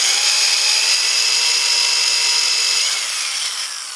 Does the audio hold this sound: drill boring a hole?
yes